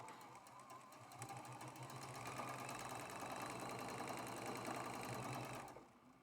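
A sewing machine runs steadily while stitching a row of a traditional Beaming Star quilt block, a continuous close whir lasting several seconds before it stops near the end.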